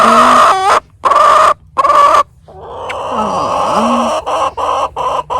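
A pet hen clucking close by, a series of loud, sharp squawking clucks in quick bursts with brief pauses, then a softer, drawn-out murmur before more clipped clucks.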